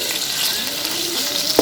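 Green chilies, garlic and tomato sizzle with onion and green masala in a pan for an okra sabzi, giving a steady close crackle with a light clink near the end.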